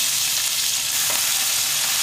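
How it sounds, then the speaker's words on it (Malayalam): Onions sautéing in hot oil with fried spices for a Kerala chicken roast, giving a steady, close, continuous sizzle that holds evenly throughout with no talking. "ഈ സവാള നല്ലൊരു ഗോൾഡൻ ബ്രൗൺ ആവുന്നത് നമുക്കിതൊന്ന് വഴറ്റാം"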